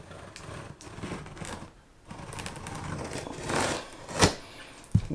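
A blade slices through the factory seal on a sealed 2022 Hot Wheels set box, close and fairly quiet, with scraping and tearing of tape and cardboard and a couple of sharp snaps near the end.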